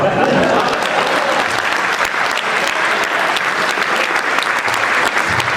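Loud, continuous audience applause fills the hall at a Hindi comic poetry recital by Mahendra Ajnabi, a thick wash of many hands clapping without pause.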